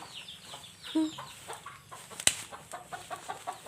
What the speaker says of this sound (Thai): ข้างนี้เป็นไก่แม่ลูกอ่อนค่ะ ไก่แม่ลูกอ่อน